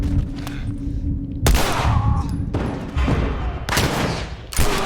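Sharp, loud gunshots ring out in The Last of Us combat, four separate blasts spaced about a second apart, each trailing off in a short echo over low background rumble.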